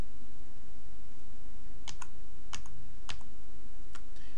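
A computer keyboard is tapped in a few sharp, separate keystrokes over a steady background hum while a document is edited in a word processor.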